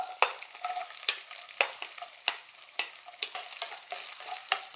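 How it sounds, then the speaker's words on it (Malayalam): Coconut pieces fry in coconut oil in a pan with a continuous sizzle. About a dozen sharp scraping stirs cut through it at a steady rhythm, close and clear, with no talking. "തേങ്ങാക്കൊത്തിട്ട് കൊടുക്കാം."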